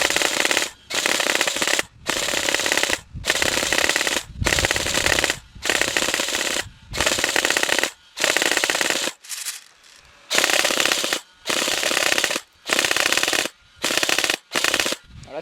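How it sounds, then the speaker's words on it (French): A Tokyo Marui airsoft M4 with a twin drum hi-cap magazine fires in repeated long bursts of rapid buzzing shots, loud and close, separated by short gaps, with one longer pause midway. "Des fois ça tire à vide et des fois je tire 2 billes à la fois."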